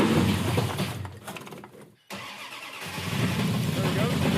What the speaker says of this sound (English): we're gonna hit the button and see if this thing fires up